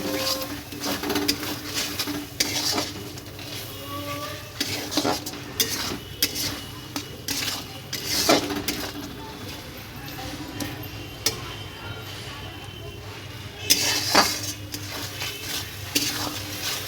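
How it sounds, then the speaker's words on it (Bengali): Salt, turmeric and chili powder are stirred and fried in a village cooking pot, making repeated scraping and clinking of a utensil against metal over a soft sizzle, close and steady, with a voice occasionally talking. "ততক্ষণ নাড়তে থাকবো যতক্ষণ কষা না হয় মশলাগুলো"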